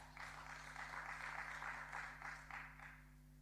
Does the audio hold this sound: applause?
yes